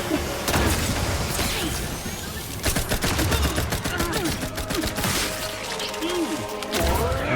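Rapid, dense bursts of gunfire from a weapon in The Outer Worlds 2, loud and close, with sharp cracks and impacts in a final boss fight and brief pauses between volleys.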